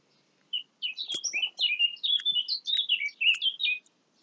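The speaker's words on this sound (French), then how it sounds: "Petits oiseaux." Small birds chirp outdoors under a clear sky, a quick, busy run of bright, high tweets close by, carrying on with no talking.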